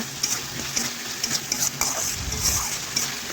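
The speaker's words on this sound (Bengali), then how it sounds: "এখন আমি ঝোলের জন্য পরিমাণ মতো জল দিয়ে দেব" Water goes into a pan of sizzling ground-spice masala for a Bengali rohu fish curry. Close, steady frying hiss comes with light scraping and stirring clinks of a spoon against the pan, and there is no talking.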